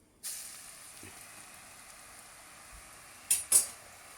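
Janthikalu dough made from rice and urad flour drops into hot oil and starts a steady sizzle, followed near the end by two sharp clinks of a metal utensil against the pan.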